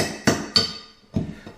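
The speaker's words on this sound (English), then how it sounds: "take this hammer, clean this up" Four sharp hammer strikes on a subfloor during floor repair, loud and close, with irregular spacing and a brief ringing decay after each hit.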